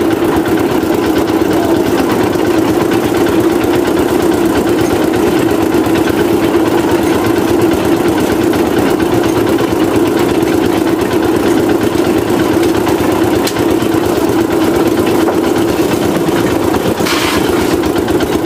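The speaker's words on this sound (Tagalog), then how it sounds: "Dadalhin yan dito sa nag-iisang makina lang." A single machine for stripping abaca fiber runs with its engine going, a loud, continuous droning hum that holds at a steady level throughout, with faint rattles and no talk.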